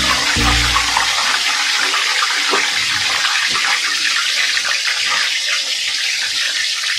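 Chicken lowered into hot oil for frying sajji: a loud, close, continuous sizzle and hiss that begins with a heavy splash and holds steady throughout, with no talk.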